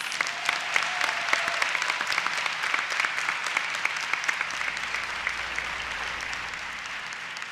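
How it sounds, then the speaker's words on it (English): An audience at a student academic excellence awards ceremony gives a round of applause, many hands clapping in a steady, moderately distant wash that slowly thins out. "Everyone, please join me in giving them a huge round of applause."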